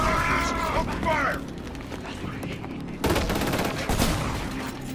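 Gunfire from a firefight in Killzone: Shadow Fall, a dense burst of shots and mechanical clatter under shouted voices, growing louder and heavier in the second half.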